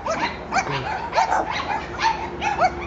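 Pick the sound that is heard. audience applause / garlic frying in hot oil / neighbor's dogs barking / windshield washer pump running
neighbor's dogs barking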